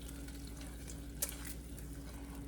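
Heavy whipping cream stirred into keto caramel sauce in a hot pan, giving a soft, steady sizzle with light scraping and one brief clink, faint and close, with no voices.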